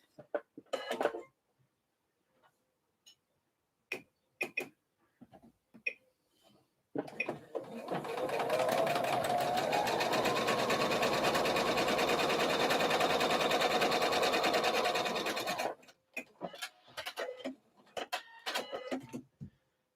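A sewing machine edge stitches the strap pieces of a slip dress, running steadily for about nine seconds, preceded and followed by scattered short handling clicks and taps.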